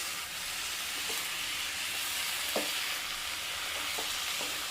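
Sliced mushrooms coated with turmeric and chili powder sizzle steadily in a hot pan, a continuous frying hiss with a few soft stirring clicks and scrapes, close and moderately loud, no talking.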